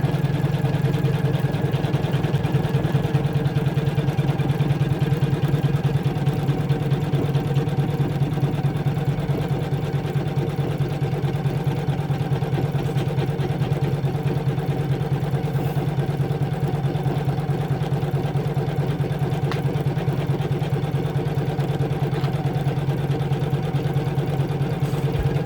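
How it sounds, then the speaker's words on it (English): Embroidery machine stitching a Christmas doorstop at a steady 600 stitches per minute, a constant mechanical hum with fast, even needle chatter, loud and unbroken throughout with no voices. "I'm stitching on a standard 600 stitches a minute."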